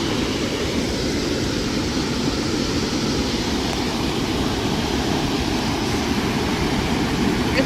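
Loud rushing water at a river drain among rocks, a dense, continuous roar heard from close by, steady and broad with no pauses.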